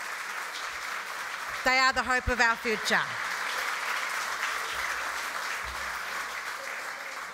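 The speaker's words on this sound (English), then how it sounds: "Another round of applause for those beautiful children." Steady audience applause at the Garma Festival rolls on throughout as a continuous crowd clapping, briefly overlaid by a speaker's voice addressing the gathering.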